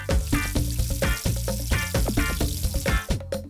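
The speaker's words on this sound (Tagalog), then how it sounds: "Igigisa muna ang luya, bawang" Ginger, garlic and onion sautéing in a pan for Filipino ginataang tilapia, with a loud continuous sizzle broken by repeated clattering stirs and scrapes close up, no talking.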